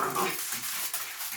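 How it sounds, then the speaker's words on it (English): A dog in the background gives short whimpering yips and faint barks, a little distant, over a room where a classic Mini Mk1 with twin SU carburettors is being worked on; no one talks. "the soundtrack's from a crazy dog"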